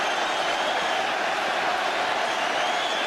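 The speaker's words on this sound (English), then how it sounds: "Turns to the north bank and deserves their applause." Dense football crowd at Arsenal's North Bank during an Arsenal vs Tottenham Hotspur match, applauding and roaring after a goal, a steady, loud wash of clapping and cheering throughout.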